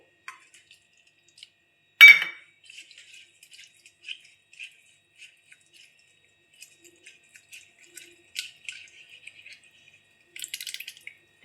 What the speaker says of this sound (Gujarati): એ થોડુંક પાણી લઈને આપણે ધોઈ લેશું.